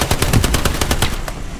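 Rapid machine-gun fire from Hell Let Loose, a World War II shooter, rings out as a close, loud string of about ten evenly spaced shots that trail off near the end.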